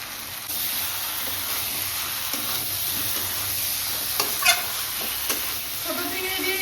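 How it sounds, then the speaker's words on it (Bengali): Small fried shrimp go into a pan of spiced jackfruit and potato: a steady close sizzle with a few sharp stirring scrapes and clinks near the end. "এবার চিংড়ি মাছ ভাজা চলে যাবে"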